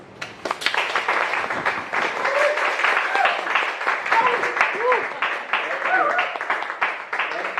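A lecture audience applauding steadily to welcome a speaker, dense clapping throughout with a few cheers and whoops rising over it.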